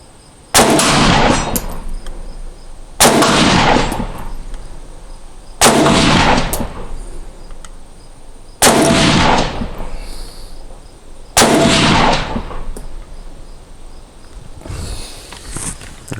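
Five evenly spaced gunshots from a 7.62x39 rifle, heard through Howard Leight Impact Sport electronic earmuffs: loud, sharp cracks, each with a short decay, roughly every two and a half seconds.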